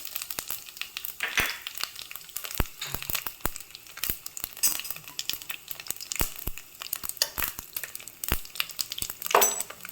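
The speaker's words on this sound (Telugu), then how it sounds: "ఆయిల్ వేడైన తర్వాత అందులో హోల్ గరం మసాలా వేసి వేయించుకోవాలి" Whole garam masala spices frying in hot oil with a little ghee, a continuous crackling sizzle dotted with sharp pops and spits, close and steady throughout.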